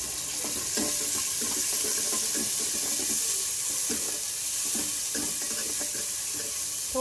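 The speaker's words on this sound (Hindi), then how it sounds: "थोड़ा सा हम प्याज को सौते करेंगे" Two medium chopped onions sizzle as they sauté in a pan for a taro and mutton dish, a steady bright hiss with soft stirring scrapes throughout and no voices.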